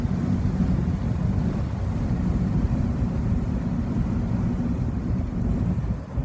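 A 2.2 litre FJ Holden utility with a standard 3-speed crash box cruises in top gear, its engine a steady low purr under heavy wind buffeting at the microphone throughout.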